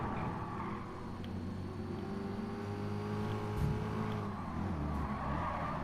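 A race car engine from a GT Sport beginner league event drones steadily throughout, with sustained tonal revving and a faint tire squeal layered over a dense, continuous engine roar.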